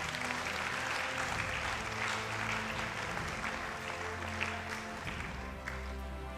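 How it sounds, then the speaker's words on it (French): A church congregation applauding at mass, a steady wash of clapping from many hands that holds at an even level throughout, with a faint background hum and no talk over it. "Applaudissons pour le Seigneur."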